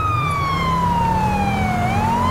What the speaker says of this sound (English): We can probably cut sirens now